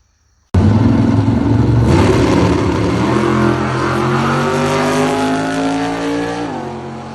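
A Chevrolet Nova drag car launches down the strip on a pass, its loud engine bursting in and revving hard through the gears with a steady rising roar before easing off near the end.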